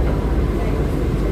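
An AC local train on Mumbai's Harbour Line, running between Mankhurd and Vashi at close to 100 km/h, gives a loud, steady rumble and roar close by with no break.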